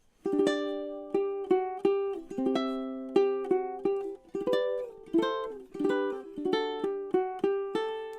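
A ukulele plucks the bright melody of Minuet in G, note after note in a steady rhythm with crisp attacks and short decays, played alone and close.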